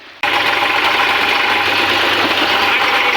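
A tractor engine runs in heavy rain, a loud, steady droning rumble mixed with dense rain noise that cuts in abruptly after a brief quieter moment and holds constant.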